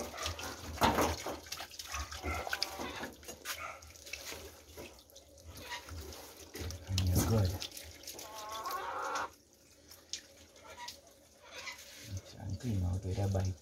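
A tap runs water over a cleaned armadillo carcass being rinsed out, a loud continuous splashing stream that surges and drops, with people talking over it and a rooster faintly in the background.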